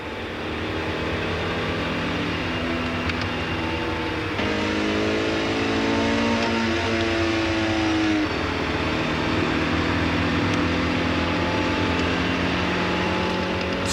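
Cars driven at high speed on the Ehra-Lessien proving ground, a steady loud engine roar with rising and falling pitch as vehicles accelerate and pass, continuous throughout with no talk.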